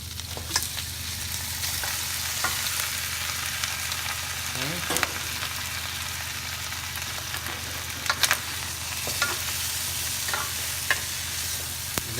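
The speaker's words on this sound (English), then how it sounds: "Now we'll add our pork hock." Pork hock sizzles and fries steadily in a hot pan, a dense crackling hiss with occasional stirring scrapes and pops, close and continuous, with no talk.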